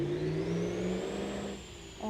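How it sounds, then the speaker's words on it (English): A diesel truck engine in a vehicle-smashing derby video game revs loudly and steadily with a rising whine, easing off near the end. "these diesels are so loud"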